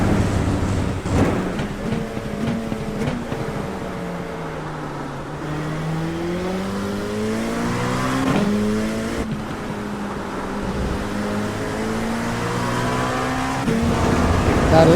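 An LMP2 prototype race car in a racing video game laps a wet Hockenheim circuit, its engine droning and sweeping up and down through gears with shifts and a brief tire squeal, loud and continuous.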